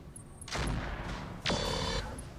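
Mech weapons fire in the video game Roguetech as two loud, sharp volleys about a second apart, the second with a bright, ringing tail.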